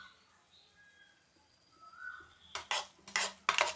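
A spoon scrapes and clatters in a pan as masala is stirred into frying mushrooms, several sharp bursts of stirring near the end after a quieter start with faint background noise.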